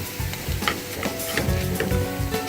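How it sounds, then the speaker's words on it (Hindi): Green chillies hit hot oil for a pot of dal and crackle loudly right up close, a dense sizzle broken by quick stirring scrapes. "डालती हूँ मिर्च"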